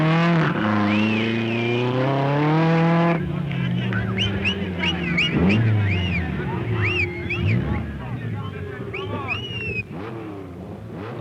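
A rally car races along the route of the 1976 Safari Rally, its engine note rising and falling steadily and loud throughout, with a commentator's voice running over it.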